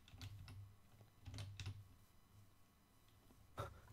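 A computer keyboard is typed on in quick, soft bursts of clicking keys. Short flurries of presses come with brief pauses between them, quiet and close by, with no talking.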